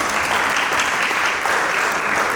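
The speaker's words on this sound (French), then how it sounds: "Merci, pour les acclamer très fort." An audience at a prize-giving ceremony claps in a dense, sustained wave of applause, loud and even from start to finish with no pauses.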